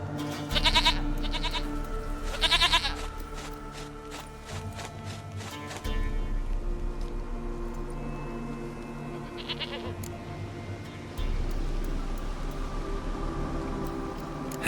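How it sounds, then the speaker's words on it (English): Goat bleats in the video game The Witcher 3 come as a few loud, wavering cries at intervals over a humming ambient backdrop, with no voices. "Goat of mine, dearest, sweetest goat."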